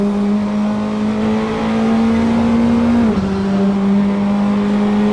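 Praga R1 race car engine at Barcelona GP in Assetto Corsa, a steady high-pitched drone holding constant, then dipping briefly as revs drop and settling again, loud and continuous with no talk.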